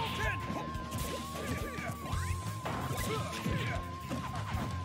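A forward smash landing in a Super Smash Bros. Ultimate match between Pac-Man and Ken at a LAN tournament, a sharp crash amid busy game effects and crowd noise under steady commentary.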